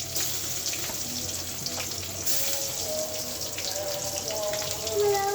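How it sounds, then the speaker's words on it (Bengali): Boal fish sizzles and spits in hot oil in a home kitchen, a steady crackling hiss with scattered pops that grows slightly louder toward the end. "বোয়াল মাছ ভাজি করতে ভয় লাগে"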